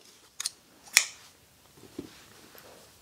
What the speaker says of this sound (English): Now what you want to do is cut your yarn